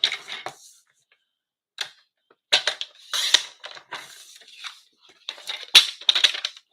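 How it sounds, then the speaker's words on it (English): Paper being cut for a layer of a handmade stamped greeting card, heard as several separate crisp snips and crunches in irregular bursts with silent gaps between them, close to the microphone and without speech. "So I'm just going to cut a layer for that."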